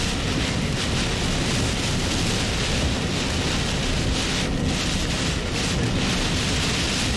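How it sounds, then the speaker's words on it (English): Steady, roaring wind from Tropical Storm Gordon buffets the microphone for several seconds in a dense, continuous rush with no clear breaks and no talking. "A little gust here."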